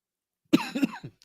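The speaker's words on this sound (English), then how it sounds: "I coughed." A single sharp cough bursts out up close, trailing into a short rough throat-clearing rasp, then silence.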